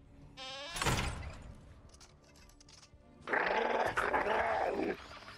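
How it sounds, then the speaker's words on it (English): Wolves in the Fortnite Save the World game snarl and growl in two loud, rough bursts, the second longer and more sustained, with quieter rumbling between them. "Away, you howling beasts!"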